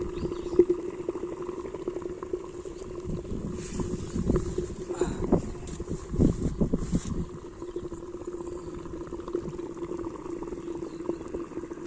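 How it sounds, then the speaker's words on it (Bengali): Water boils in a pot with a steady low bubbling rumble that swells into a louder, busier burst midway before settling back down. "এটা এখন রীতিমতো ফুটতে থাকবে, হ্যাঁ।"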